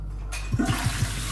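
A toilet flushing in a McDonald's accessible restroom: a sharp rush of water starts abruptly and keeps pouring with a gurgling, pulsing churn, close and loud.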